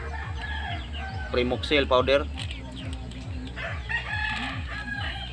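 A rooster crows twice in the middle of a backyard scene where chickens are being treated for coryza, with regular low clucking and fowl sounds throughout and someone speaking over them.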